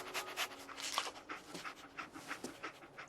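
Dogmeat, the dog in Fallout 4, pants rapidly and rhythmically close by, a soft, breathy huffing that continues steadily with a faint low hum behind it.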